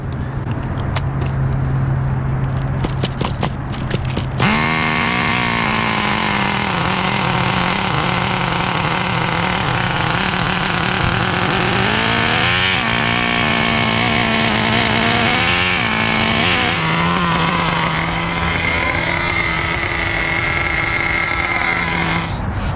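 A 1/5 scale Rovan Baja RC car with a 30cc gas engine revs loud and buzzy as it warms up, steady and close with wavering pitch after a short starting burst.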